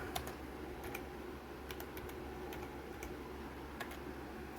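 Typing on a computer keyboard entering a search, with scattered light key clicks over a steady room hum, no voices.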